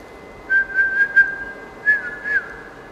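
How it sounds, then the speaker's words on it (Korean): Someone whistles a few short, clear notes in quick succession to a crested ibis egg, pauses, then whistles two more, fairly close and steady in pitch. "알 속의 새끼가 휘파람 소리에 반응합니다."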